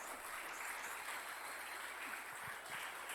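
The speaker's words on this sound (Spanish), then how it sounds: "Un aplauso para él." Audience applause after a talk on pre-Hispanic cultures of eastern Antioquia, a steady wash of clapping held at a moderate distance throughout.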